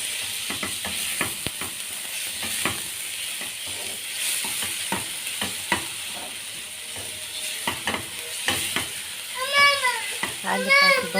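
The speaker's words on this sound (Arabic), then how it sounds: "هقلب بقى في البصل بتاعي كده اشوحه في الزيت كويس جدا لحد ما يصفر" Chopped onions are stirred in hot oil in a pan for Egyptian egg 'ijja, giving a steady sizzle with repeated scraping and clicking strokes of the spoon, while a voice is faintly audible at times.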